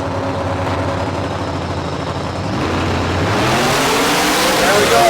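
Drag-racing street cars, a Chevrolet and a Ford, launching down the strip at a Las Vegas nationals event: loud, sustained engine roar that swells and climbs in pitch as the cars pull away, with an announcer talking over it.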